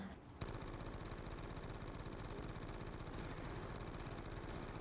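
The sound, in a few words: MG08 machine gun firing in Black Ops 2 Zombies video game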